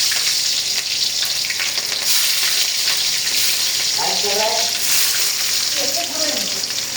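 Onion, chili and garlic frying in a pan, a loud steady sizzle close by with brief stirring and scraping sounds midway, and a voice speaking quietly in the background.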